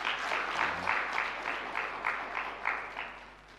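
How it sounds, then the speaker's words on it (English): An audience at a Ugandan youth event claps in a steady ovation, a crowd of hands beating together in a rolling, fairly even rhythm for a few seconds. "these people should give you a clap"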